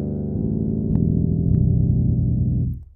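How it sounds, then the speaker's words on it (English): A low note on a six-string bass guitar with extra strings ringing along when moving from higher to lower strings, a sustained muddy overring that swells slightly, then cuts off after about three seconds. "you will run into string overring as you come down from the higher strings to the lower strings"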